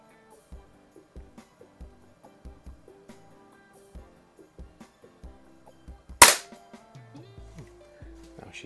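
A 1970 Crosman 760 air rifle, rebuilt with a new seal kit, fires a single sharp loud crack near the middle, with the clicks and knocks of handling before and after.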